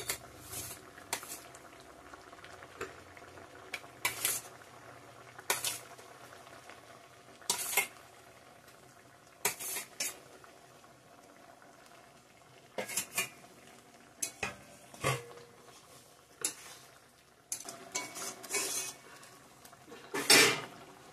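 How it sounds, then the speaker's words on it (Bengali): Fried egg omelettes go into a simmering pan of curry and are stirred, with scattered metallic clinks and spoon scrapes against the pot over a soft, low bubbling, fairly quiet and intermittent. "এখন ভেজে রাখা ডিমের অমলেটগুলো দিয়ে দিব ছেড়ে"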